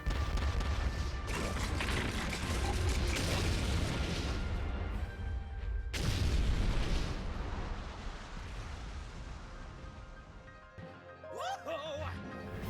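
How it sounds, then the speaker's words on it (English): Cannons fire in rapid succession in Hyrule Warriors: Age of Calamity, a dense, rumbling barrage of booms and crashes that runs almost continuously, briefly cuts out, resumes, then gives way to quieter game effects near the end. "Robbie, they're coming, man. You wanna fire those cannons?"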